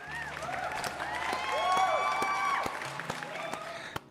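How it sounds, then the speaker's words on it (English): Canned applause and cheering on a PlayStation podcast marking 1,000 subscribers, a crowd sound with sliding whistle-like tones and scattered claps rising to a peak midway, then thinning out into a few sharp taps. "One more time with the clap."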